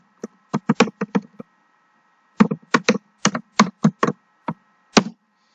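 Typing on a computer keyboard at a command prompt: two quick bursts of crisp, close key clicks separated by a short pause, with no voices.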